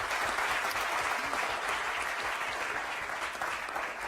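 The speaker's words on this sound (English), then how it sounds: "a huge round of applause from the crowd" Steady, moderately distant applause from a conference crowd for a panel, dense continuous clapping with no pauses and no speech over it.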